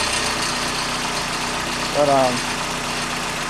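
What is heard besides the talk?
1990 Toyota Celica GT-S engine idling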